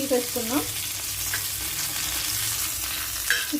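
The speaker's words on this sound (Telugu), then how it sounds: "ఇప్పుడు చూడండి, ఫిష్ బాగా ఫ్రై అయింది కదా." Pandugappa fish pieces fry in oil in a pan, with a continuous dense sizzle up close, light stirring, and a few brief faint whistle-like tones at the start and end.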